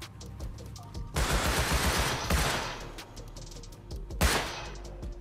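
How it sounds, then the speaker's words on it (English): Bursts of gunfire in the Rust console survival game, with a long sustained volley of rapid shots near the start and another short loud burst later, between quieter sparse pops. "What are you shooting at?"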